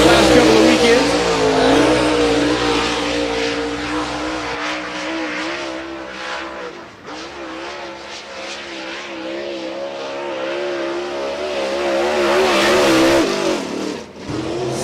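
A Late Model race car laps Cedar County Speedway at a Lucas Oil MLRA event, its engine roaring loud and steady, swelling and fading as it passes, with a commentator talking over it throughout.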